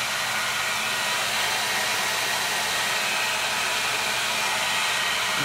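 A 2x72 belt sander driven by a 24,000 RPM spindle motor runs steadily at slow speed, giving a loud, constant whirring roar with a broad hiss that holds level throughout.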